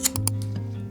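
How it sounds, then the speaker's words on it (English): Scissors cut a paper bodice sloper, giving a few quick close snips at the start over a low steady hum. "I'm just gonna like cut right here, and I'm gonna take apart this"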